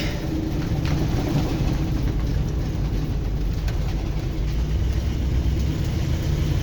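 A 1973 Dodge Tioga motorhome drones along on the road, its engine a steady low rumble mixed with road and wind noise that holds constant and loud throughout.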